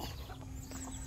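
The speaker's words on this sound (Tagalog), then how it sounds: "Ito 6 na pirasong sisiw at saka isang inahin." Six chicks and a hen cluck and peep softly and close at hand in a brief, continuous burst of farmyard noise, with no one speaking.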